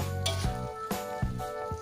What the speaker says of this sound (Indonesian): Masak telur dan tahu hingga airnya mendidih atau sampai airnya menyusut. Sambil diaduk-aduk supaya bumbu tercampur rata dan benar-benar meresap.